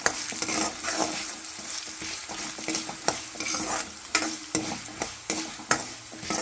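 Fenugreek, cumin and coriander seeds frying in a pan for a fenugreek chutney, stirred briskly: loud continuous crackling sizzle broken by repeated sharp scrapes against the pan at an uneven rhythm, close up and without speech.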